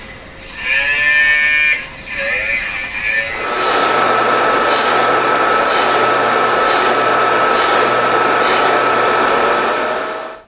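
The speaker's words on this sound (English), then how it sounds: "I'll just do the rest of the ring on the polishing motor" A polishing motor buffs a handmade leaf ring, starting with a rising whine, then settling into a loud, steady high-pitched drone with periodic brief scraping touches of metal against the wheel.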